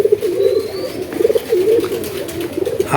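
Pigeons in a loft coo in repeated low, rolling phrases, loud and close, overlapping in a steady rhythm with faint chirps and background noise.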